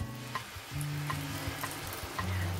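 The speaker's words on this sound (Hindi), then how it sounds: "इसी तरह हम और भी पुए फ्राई कर लेंगे बैचेस में" Chena malpua batter sizzles steadily as it fries in hot oil in batches, a continuous close crackle with a low tonal hum beneath it.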